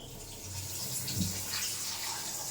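Bata fish washed under running water, a steady close stream of splashing and trickling from a tap with faint handling noise, no voices.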